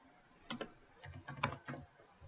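Python code being typed on a computer keyboard, with a short burst of irregular, close key clicks at moderate volume and no voices.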